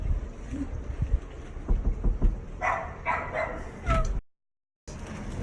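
Several dogs bark and yip in short bursts nearby, some barks overlapping, with a brief moment of silence near the end.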